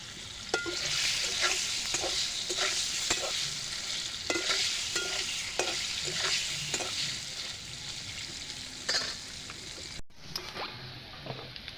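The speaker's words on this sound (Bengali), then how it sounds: "পনিরটা আমার ভাজা হয়ে গেছে আমি এবার নামিয়ে ফেলবো" Paneer pieces fry in hot oil with a little salt, giving a steady close sizzle broken by repeated stirring scrapes, then a brief cut to quieter hiss near the end.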